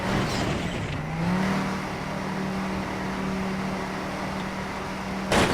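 A car engine drones steadily while driving in the racing game Trackmania Canyon, holding a constant low hum with a slight pitch rise early on, ending in a brief bump.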